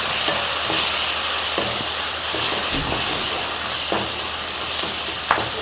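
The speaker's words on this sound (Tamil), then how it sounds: "தக்காளி நல்லா மசிச்சு நம்ம வதக்கிடலாம்." Mashed tomato sizzles and is stirred in a pan for lentil ball curry, a steady close frying hiss broken by light scraping strokes of a spoon.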